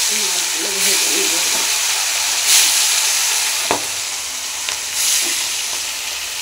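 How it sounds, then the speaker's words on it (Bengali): Brickets fish fry in hot oil in a wok, a loud steady hissing sizzle that fills the whole stretch, broken by a few sharp spatters and clinks, while a voice talks faintly early on. "মাছগুলো ভেজে নেব।"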